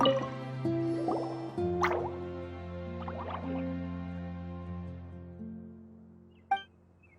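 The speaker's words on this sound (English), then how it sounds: "it sounds like a water droplet is on the second floor" Water droplet dripping in the Genshin Impact video game, heard as a few clear drips and plops over a sustained musical drone, with a final sharp drip near the end; no voices.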